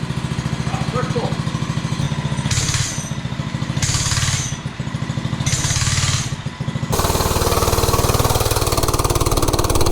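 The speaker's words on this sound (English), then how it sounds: "So now I'll see if the bike will fire up" A 105cc Oryxearth minibike engine idles and revs close by, its steady low-pitched putter rising in three bursts before settling into a louder, rougher run.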